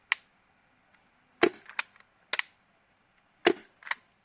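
An airsoft MK23 pistol replica fitted with a suppressor and running on HPA fires several sharp, snappy shots in uneven pairs, each a crisp close crack with a short mechanical clack.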